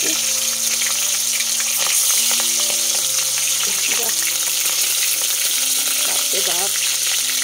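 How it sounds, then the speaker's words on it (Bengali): Thawed hilsa fish frying in hot mustard oil: a dense, steady crackling sizzle that holds throughout, close and fairly loud, with faint tonal sounds in the background. "ইলিশ মাছ ভাজায় তো সর্ষের তেল দিলে বেশি ভালো হয়"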